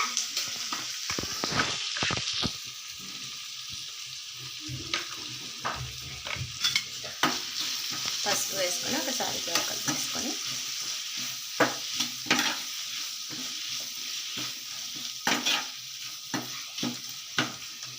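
Two dry red chillies and a pinch of turmeric frying in hot oil in a pan, a steady close sizzle with intermittent stirring scrapes and small pops throughout, no voices.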